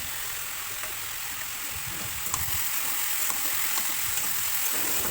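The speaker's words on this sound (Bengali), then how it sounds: "আলুগুলো দিয়ে দিচ্ছি" Washed potatoes tipped into hot oil in a home kitchen pan give a steady broadband sizzle and fry hiss that swells slightly midway and holds on, close and fairly loud, with no talk over it.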